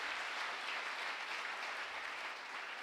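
A church congregation applauding and cheering during a sermon, a dense, steady wash of clapping at moderate distance, continuous for a few seconds with no speech over it.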